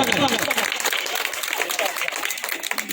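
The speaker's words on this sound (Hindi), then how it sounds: "एक बार जोरदार तालियों के साथ स्वागत।" Applause welcoming guests at an Ambedkarite wedding in Khempati, Baskhari, mixed clapping under a loud voice at first, then scattered clapping continuing for a few seconds.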